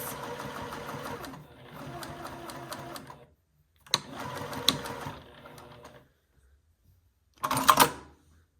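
A home sewing machine runs in several bursts while stitching a seam, with short pauses and clicks between runs, heard close and moderately loud with a brief voice at one point.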